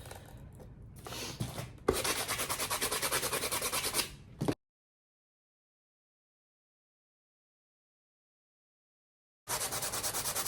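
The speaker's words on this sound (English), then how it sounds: "And just rub that and peel it off." Paper layers on a handmade heart-shaped steampunk wreath are rubbed and torn away by hand, giving close, continuous scratchy rubbing that stops for several seconds of silence before resuming.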